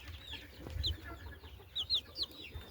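A young rooster clucks softly at close range, several short high chirping clucks in uneven bursts over quiet farmyard background, with no talk.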